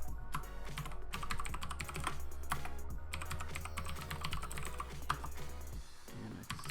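Fast, steady clicking as a password is typed on a computer keyboard to log in. It sounds close but quiet, with a low hum underneath.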